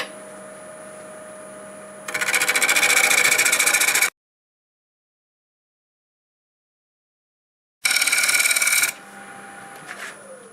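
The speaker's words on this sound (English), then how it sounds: "all I'll do is a little shear scraping here." Shear scraping of an off-center wooden bowl turning on a lathe, heard as two loud, steady rasping bursts, about two seconds and then one second long, separated by a stretch of silence, with a faint motor hum between them.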